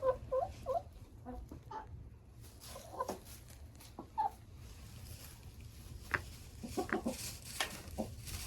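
Hens and a rooster cluck in a coop beside a mesh fence, with short clucks and calls scattered throughout at moderate distance, fairly quiet over a steady low background hum.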